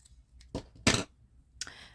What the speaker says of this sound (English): Let's hide the yarn inside and cut it off.